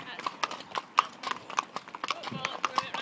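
Horses' hooves clip-clop on a road in a steady, rhythmic series of sharp, close knocks, with voices talking over them.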